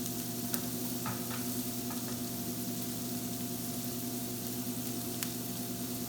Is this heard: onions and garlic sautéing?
yes